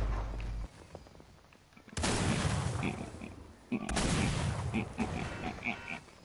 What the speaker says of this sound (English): Oh, that's good grenade launch.